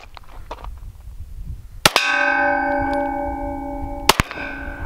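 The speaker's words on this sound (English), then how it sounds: "Next round, it's gonna be a 9mm, full metal jacket, 115 grain, and I'm using the Glock 19X." Two 9mm full metal jacket rounds from a Glock 19X strike a steel traffic light pole, each a sharp crack followed by a loud metallic clang that rings on with a sustained, bell-like tone.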